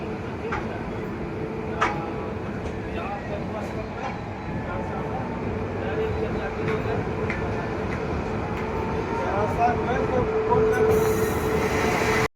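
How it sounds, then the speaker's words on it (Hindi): Saptkranti Express from Anand Vihar to Muzaffarpur running through Ghaziabad Junction without stopping, a steady rumble of wagons and rails with faint wheel squeal, continuous and fairly close throughout. "आनंद विहार मुजफ्फरपुर सप्त क्रांति एक्सप्रेस स्किप करेगी गाजियाबाद जंक्शन को"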